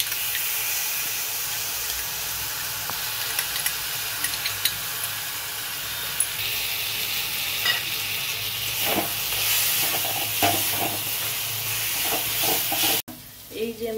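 Ground spice paste hits hot oil in a pan for a Bengali banana-blossom dish, sizzling and hissing continuously while a spoon stirs and scrapes, with a sharp clatter near the end.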